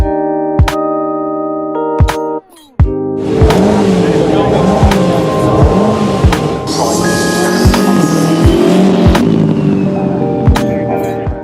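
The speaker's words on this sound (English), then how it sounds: "this BMW Z4 GT3 race car, which is obviously based on my Z4 road car" A BMW Z4 GT3 race car at the Goodwood Festival of Speed, its engine revving loudly nearby through repeated rising and falling pulls, with sharp clicks at the start and people talking beneath the noise.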